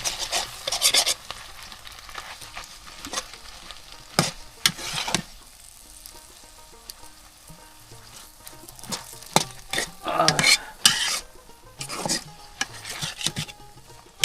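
Jute leaves cooking in a pot on a clay village stove: faint background sizzle broken by scattered scraping and stirring strokes, louder bursts at irregular intervals, with no speech.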